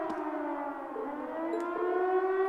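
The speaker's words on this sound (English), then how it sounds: "What's that? It sounds like a siren." A civil-defense style siren in a video game wails steadily, its pitch slowly rising and holding, loud and alone with no voices.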